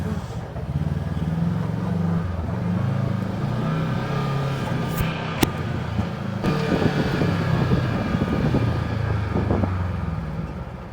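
Kawasaki KRX 1000 side-by-side running on 35-inch tires, a steady engine drone with wind rush and rattling, close and continuous, a sharp knock midway, no talk.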